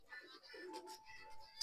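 Racing pigeons from a Punjab champion loft coo softly in short, faint, low burbling calls, with a few thin chirps and clicks around them in quiet surroundings.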